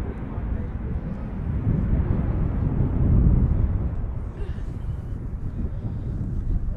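Ryanair airliner climbing out after takeoff from Manchester Airport, a steady broad low roar with some wind buffeting on the microphone, fairly distant and holding level throughout.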